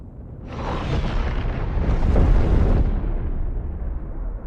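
A massive booming blast of weapon fire in Star Citizen swells into a long rolling roar that rumbles for several seconds, loud and close, like the sky splitting open.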